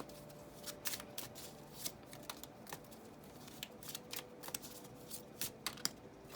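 Gold-trimmed tarot cards are handled and shuffled close up, giving a run of soft papery riffles and light flicks at an irregular rhythm, fairly quiet with no talk.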